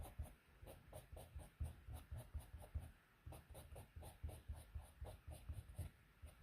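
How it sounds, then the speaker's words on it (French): An ivory coloured pencil shades paper to fill white areas in a drawing of hair, giving a quiet, steady, rhythmic scratching of short back-and-forth strokes that runs almost without pause. "Et je viens combler un peu les zones blanches avec le crayon ivoire."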